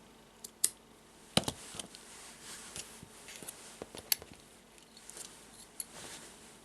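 Scissors cutting yarn while making a friendship bracelet, heard as a few quiet, close snips and clicks spaced irregularly over soft background noise.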